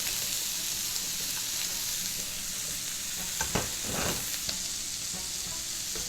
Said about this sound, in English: now I like to add my onion to the pan.